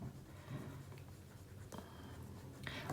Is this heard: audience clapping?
no